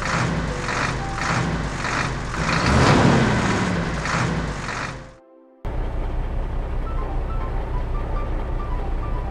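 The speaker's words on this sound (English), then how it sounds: "Brush truck." A brush truck's engine roars with a rough, throbbing rumble, drops out briefly, then resumes as a quieter steady hum with faint tonal beeps.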